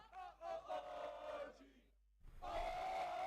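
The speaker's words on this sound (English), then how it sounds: "Crowd chanting OG2." An arena crowd at a Valorant Challengers esports playoff match chants and roars in two loud swelling bursts, split by a brief silent gap.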